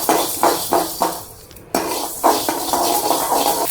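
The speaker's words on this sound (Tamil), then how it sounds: "கடுகு இந்த சூட்லேயே நல்லா வெடிக்கும்." Mustard seeds crackling and popping in a hot pan with the stove off, quick bursts repeating in short clusters with metallic clinks, close and fairly loud.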